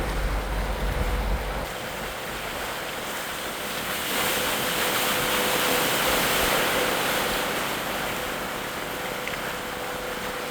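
A boat cruises the canals of Bruges, with a steady wash of water and low engine rumble while wind buffets the microphone throughout.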